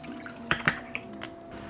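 Half a cup of milk poured into cupcake batter in a home kitchen: a few soft splashes and drips, close and quiet, with no talking.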